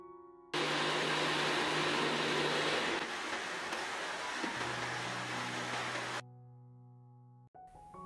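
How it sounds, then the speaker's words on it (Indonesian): An electric blender whirs loudly and steadily as it mixes a flour batter with oil for thin spring roll wrappers, running for several seconds before cutting off abruptly. "Kemudian tutup dan ini akan kita blender sampai semuanya tercampur merata."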